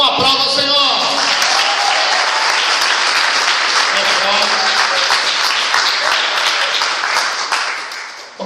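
A church congregation applauds the Lord, a dense, loud and sustained roar of clapping that holds steady for several seconds before tapering off, with a voice briefly audible over it near the start.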